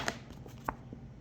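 A deck of tarot cards shuffled by hand in a few quick, soft riffles and taps, close and quiet, with no talking.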